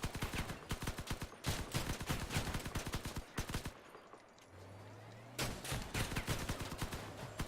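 Several guns mounted on a vehicle firing in the Crossout video game, loud rapid repeating bursts that pause briefly and then resume, with a low engine-like hum in the lull.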